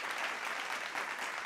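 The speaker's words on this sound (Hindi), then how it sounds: "जोरदार तालियां प्रभु कित्तूर के लिए भी आज की शाम" Audience applause at an agricultural awards ceremony, a brief, fairly faint wash of steady clapping from a crowd with no distinct individual claps.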